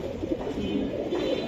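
Giribaz pigeons give soft, low, repeated coos close by, a gentle murmuring run with no voices.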